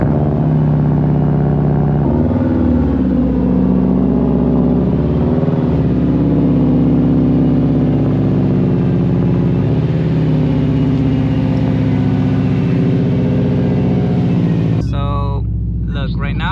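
A 2008-2014 Subaru WRX hatchback with a carbon fiber driveshaft being driven, a loud steady engine drone with gear-change dips, heard from inside the cabin.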